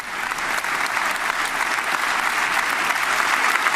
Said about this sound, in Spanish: después se escucha obviamente la ovación